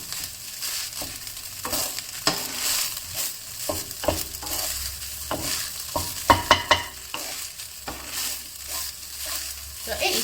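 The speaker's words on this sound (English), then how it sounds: "Frying fried rice, you need a little bit of patience also, because you must let the egg dry out." Fried rice with egg sizzling in a hot pan while a spatula stirs and scrapes through it, a steady frying hiss broken by repeated sharp metallic scrapes and clacks.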